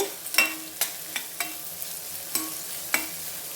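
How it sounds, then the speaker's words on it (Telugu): Chillies, onions and curry leaves fry in a pan, a quiet background sizzle broken by sharp spoon scrapes and taps against the pan at irregular intervals. "చిల్లీస్ ఇవి మొత్తం వేసేద్దాం కొంతసేపు అట్లా వేపుకోండి"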